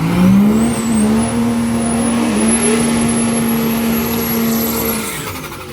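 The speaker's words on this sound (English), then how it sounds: "another Dodge truck. This thing is sick. Obviously, Cummins powered, diesel." A loud, steady Cummins diesel engine drone from a Dodge truck, with a low hum and a whining tone, holding close and constant before fading slightly.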